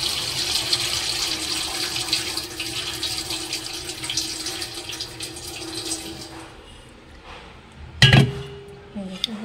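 Semolina is rinsed by hand in a bowl for idli batter, with soft water sloshing and swishing throughout, a faint clink of the bowl, and a louder splash and clatter near the end as the water is poured off.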